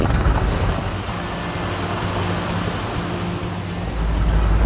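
River rapids on the Snowy River during a vehicle crossing, with rushing water making a steady broad roar and a low engine rumble underneath, swelling louder near the end.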